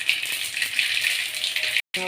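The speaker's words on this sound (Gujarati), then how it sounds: "તેલ ગરમ થયું નહીં ચમચી રાઈ નાખી છે એમાં અંદર" Mustard seeds crackle and sizzle steadily in hot oil for tempering, a close, continuous frying hiss with tiny pops, cut by a brief gap near the end.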